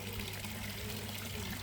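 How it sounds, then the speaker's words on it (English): Water is poured into a garden koi pond, giving a steady trickling, splashing flow that lasts through the short stretch without any speech. "I've put some more water in."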